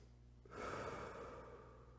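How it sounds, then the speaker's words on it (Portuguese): One long, deep diaphragmatic breath is drawn in close to the microphone, a soft airy rush that starts suddenly and then slowly fades, with no talking. "eu até poderia demonstrar uma respiração diafragmática, mas vocês não veem a minha barriga"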